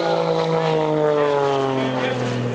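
An aerobatic propeller airplane with a radial engine, flown by Bill Stein at the EAA AirVenture airshow, drones loudly overhead, its engine pitch sliding steadily downward as it passes.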